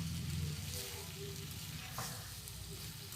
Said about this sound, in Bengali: এরকম দশ থেকে পনেরো মিনিট এভাবে কষাতে হবে যখন ওলকপিটা খুব সুন্দর ভাজা ভাজা হয়ে যাবে